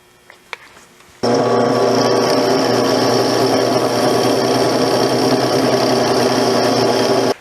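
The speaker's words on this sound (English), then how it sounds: "when you're actually drilling the hole, it's a good idea to use some cutting fluid on the drill bit." A drill press boring a hole with a drill bit in a shop, starting abruptly after a second of quiet with a few small clicks, then a loud steady motor whine and cutting drone that runs continuously before stopping sharply.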